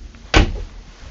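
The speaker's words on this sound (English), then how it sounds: "All soft close, drawer glides." A soft-close drawer shuts in the sleeper of a 2023 Peterbilt 389 truck with a Renegade Classic 43CMD sleeper: one short, muffled thud with a faint settling tail, heard alone in a quiet interior.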